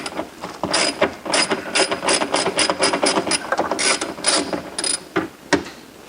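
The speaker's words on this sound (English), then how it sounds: "Luckily, I always have a socket wrench in my back pocket with a 5/16 driver on it." Socket wrench with a 5/16 driver ratchets out a screw while disassembling a Frigidaire Gallery French door refrigerator, a close, loud series of quick clicking ratchet strokes in uneven bursts.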